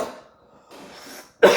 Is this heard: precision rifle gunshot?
no